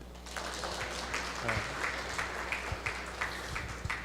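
An audience claps at a yoga anniversary event, a light, scattered applause of modest volume that carries on steadily throughout.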